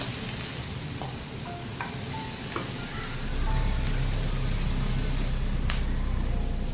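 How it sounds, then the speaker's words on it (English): Meat sizzles steadily in a frying pan while it is stirred, with a soft, continuous hiss and occasional light scraping clicks. The hiss grows denser and louder partway through, and no voices are heard. "So just gonna stir until the meat is no longer pink"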